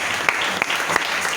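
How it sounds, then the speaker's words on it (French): A church congregation claps in praise, a steady wash of hand claps with a few sharper individual claps standing out, with no talk over it. "tu vas acclamer le Seigneur Jésus-Christ"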